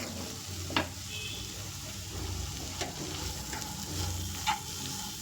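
Chopped onions fried with turmeric and coriander powder in a pan give a soft, steady sizzle with a few light spoon taps and scrapes, close but quiet.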